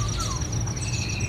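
Caged birds at a bird market chirp and whistle in short, thin calls, a few voices overlapping, moderately near over a steady low background hum.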